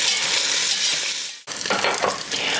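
Bacon crisping in a pan gives a loud, continuous close sizzle, broken by a brief dip before the frying hiss returns with light scraping.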